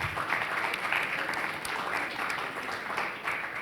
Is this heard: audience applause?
yes